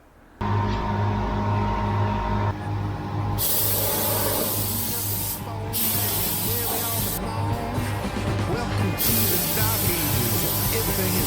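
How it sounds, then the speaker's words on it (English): A continuous loud hiss of a spray gun applying high build primer to a 1970s Bedford truck cab runs throughout, with brief pauses and restarts, over a low steady mechanical hum. "It's spraying on pretty nicely."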